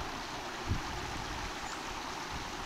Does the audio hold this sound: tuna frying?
no